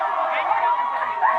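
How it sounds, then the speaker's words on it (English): A crowd of people seeking permanent voter cards presses together at an INEC ward in West End, Asaba. It gives a steady, dense babble of many voices close by. "INEC officers are having a field day controlling the crowd of those seeking their permanent voter cards"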